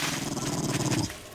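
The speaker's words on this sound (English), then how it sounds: "What's that? Ah! No! Not a dog!" A dog growls in the survival video game 7 Days to Die, a low, rough, continuous rumble that sounds close and steady for about a second before cutting off.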